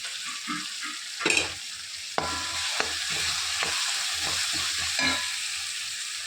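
A steady sizzle of ginger garlic paste frying in hot oil with tomatoes, a spoon scraping and clinking against the pan as it is stirred, close up.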